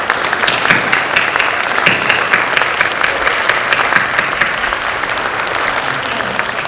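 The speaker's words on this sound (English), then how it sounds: "we'd like to give them a round of applause" Sustained applause from a large audience at a preschool graduation, dense and even, continuing steadily at full volume throughout.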